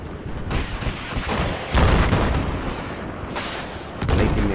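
Heavy gunfire and booming blasts from a Battlefield 4 multiplayer match on PS4 Pro, dense and continuous with louder bursts near the two- and four-second marks, no talk over it.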